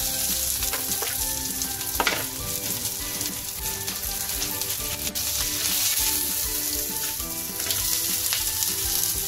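Whole spices such as cloves and cardamom fry with garlic and onion in a pan for a village-style mutton masala, giving a loud, steady sizzle with a few stirring scrapes throughout.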